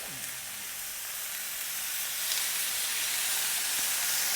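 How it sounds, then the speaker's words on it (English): Steady, bright sizzling from lemon juice hitting a hot pan of marinated lamb chops, a continuous hiss that swells slightly louder partway through. "Gives it a nice little sizzle."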